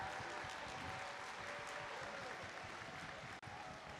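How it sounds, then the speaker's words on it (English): Faint, distant applause from a crowd at a FIRST Robotics Competition district championship, a steady wash of clapping that continues without a break, with one brief dropout near the end. "Come on, a huge round of applause for your judges."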